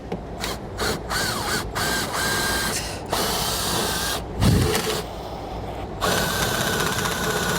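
A bit driver sinks a self-tapping screw into the bare metal trunk pan of a 2020 Ford Escape, giving a close, whirring power-tool buzz in several short bursts with brief pauses.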